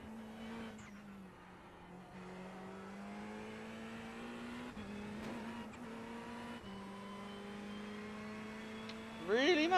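Race car engine in iRacing on a fast flying lap at Le Mans toward the Mulsanne, a continuous high whine rising and falling through gear shifts, with brief tire squeal near the end and a voice talking over it.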